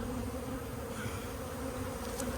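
A steady, dense buzzing of many Africanized honeybees humming continuously during a colony relocation, fairly close and loud, with no voices.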